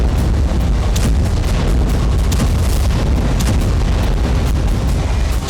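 Drone strikes hit an oil depot that has been burning for five days, producing a loud, continuous barrage of deep booms and bursts over a roaring rumble with no pause.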